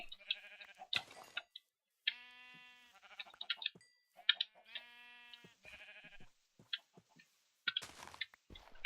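Sheep in the video game Minecraft bleat repeatedly in short, separate calls with gaps between them, close and clear. Brief clicks and ticks sound between the bleats, and no one speaks.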